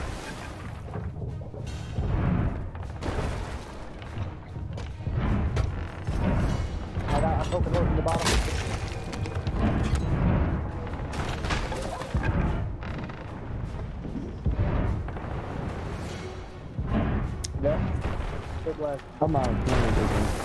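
Cannon fire in a pirate ship video game, repeated booming shots and blasts spread throughout, loud and dense under constant excited voices talking over the action.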